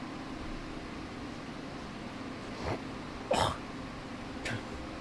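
A man clears his throat, two or three short raspy bursts close to the mic in a quiet room with a steady fan or air-conditioning hum, no speech.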